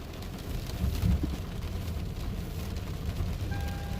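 Steady rain falling outdoors during an evening delivery-driving shift, a continuous broadband wash with a brief louder swell near the start and a faint tone near the end, no talk.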